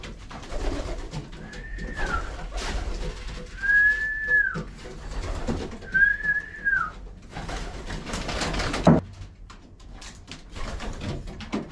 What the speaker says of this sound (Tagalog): Kamusta na ang aking mga kalapati?